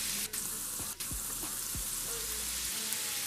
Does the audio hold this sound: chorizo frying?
yes